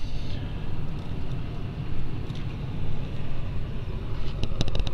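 A 1932 Ford Model B two-door sedan engine turns over and settles into a loud, rough, low idle close by, with a steady rumbling chug and a few faint clicks near the end.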